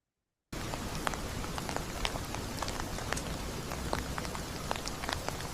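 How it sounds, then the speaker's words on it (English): Steady rain falls and patters on surfaces, beginning abruptly after a brief silence, with scattered sharper drop ticks over a dense, even hiss and no voices. "I hate the rain."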